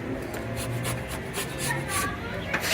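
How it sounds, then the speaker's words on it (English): A basic hand planer shaves down wooden bed-frame tops in a run of short rasping strokes with brief breathy scrapes, close and moderately loud, over a low background hum. "I'm just using a basic hand planer, something that I can control and taking down as much as I can."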